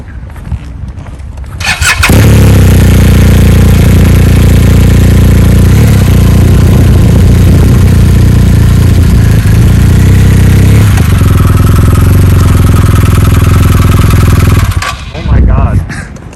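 A motorcycle engine rumbling loud and close as the bike rolls slowly across a parking lot, steady low throttle for most of the stretch before easing off, with people talking nearby.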